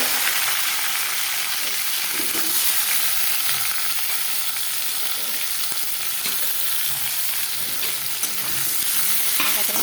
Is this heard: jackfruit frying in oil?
yes